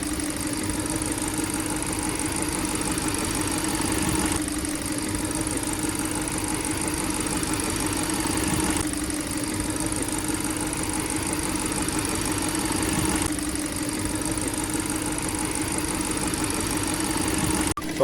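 An Audi RS5 B8 4.2 FSI V8 engine idles steadily with a low, even rumble and a slight rhythmic knock, close up and unchanging throughout.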